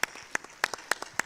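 An audience at the Africa Job Creation Forum claps in scattered, sparse bursts, a thin applause of a few sharp hand claps spaced irregularly and fairly faint.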